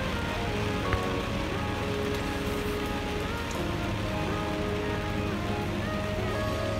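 Heavy rain drums steadily on a car roof, a dense continuous patter heard from inside the vehicle, constant and loud throughout with no talk.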